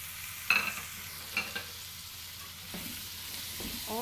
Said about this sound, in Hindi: और इसको हमने करना है फ्राई, फ्लेम थोड़ा सा हल्का कर दीजिए।